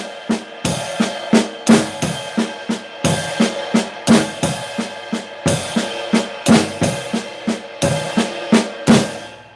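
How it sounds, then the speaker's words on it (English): A drum kit plays a repeated flam lick in a driving rhythm, the right hand striking a cymbal together with the bass drum so each phrase opens on a splashy, booming accent, close and loud with no voices. "when he hits the cymbal with his right hand, he'll hit the bass drum at the same time"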